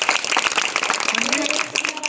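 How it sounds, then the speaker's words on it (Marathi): A crowd at a Bhagavad Gita installation gathering claps loudly in a dense, continuous burst of applause while a voice speaks over it. "तर त्यांच्यासाठी जोरदार टाळ्या"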